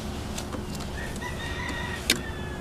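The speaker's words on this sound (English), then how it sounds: "That is the rooster." A rooster crows once in the distance, a faint drawn-out call over a steady hum of background noise and a passing engine, with a brief sharp knock near the end.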